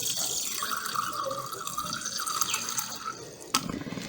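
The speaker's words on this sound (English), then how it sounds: "So let me put the distilled water in a beaker." Distilled water pours into a laboratory beaker, a close continuous trickle with a rising, bubbly filling tone, ending with a sharp clink near the end.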